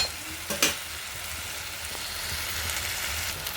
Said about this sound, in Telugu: కూర ఒకసారి తిప్పుకుందాం ఫ్రెండ్స్ కూర మగ్గింది